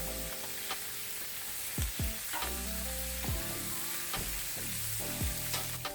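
Bacon fries for a burger in a pan, a constant close hiss and crackle with occasional louder pops and spatters.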